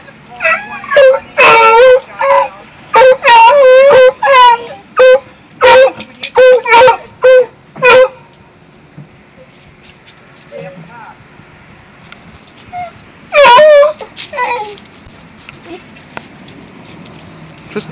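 A dog outdoors gives a rapid run of high, loud yips and whimpers over the first eight seconds, falls mostly quiet with faint noises, then lets out another brief burst of yelps.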